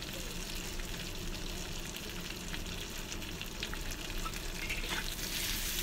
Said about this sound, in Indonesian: Oke, aku oseng lagi